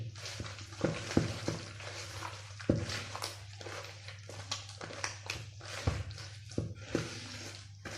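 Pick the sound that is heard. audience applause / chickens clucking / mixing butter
mixing butter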